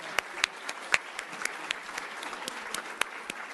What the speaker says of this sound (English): So let's all give Councilman a round of applause and a happy birthday.